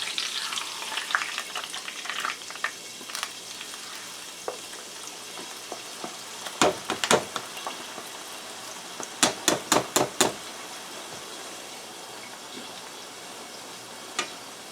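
Copycat McDonald's-style potato fries deep-fry in hot oil, a steady bubbling hiss throughout, with a cluster of sharp metallic clanks from the basket partway through.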